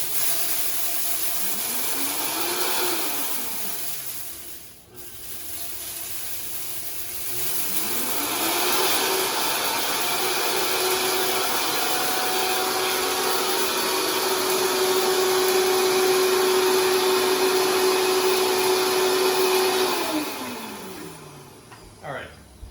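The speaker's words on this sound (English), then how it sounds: "If you don't have either of those, you can use a blender." A blender grinds dry rice into rice flour, a loud continuous whirring roar with the motor pitch sweeping up and down as it starts, briefly cuts out, then runs steadily before winding down.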